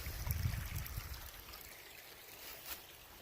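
Small waterfall trickling in a creek drainage along the Ouachita Trail, a soft, steady rush of water heard faintly at a distance in an otherwise quiet outdoor setting.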